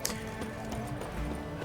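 Hooves of Roach, a horse in The Witcher 3, clip-clop in a soft, quick rhythm under low game ambience, faint and fairly close.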